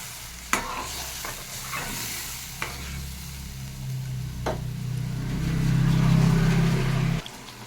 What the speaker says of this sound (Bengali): মশলাটা আমি দিয়ে দিচ্ছি, একটু ভালো করে কষিয়ে নেব